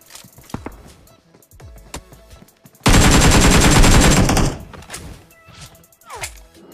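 A burst of rapid automatic gunfire rattles loudly for about a second and a half in a battle royale shooter, with softer game sounds and scattered clicks before and after it.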